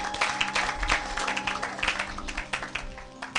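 Church congregation clapping and applauding in praise, a steady, full round of hand claps from a crowd, close and sustained, with faint voices underneath.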